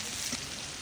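Chili peppers sautéing in a pan at an outdoor kitchen, a steady close sizzle with one brief louder flare near the middle, no voices.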